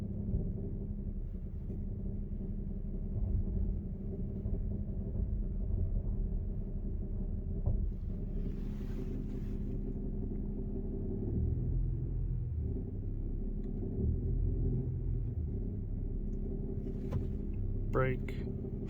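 A Toyota Tacoma reversing with a strange noise: a constant low engine rumble and droning hum from inside the cab, with a few light clicks and a short rattle near the end, a voice briefly heard.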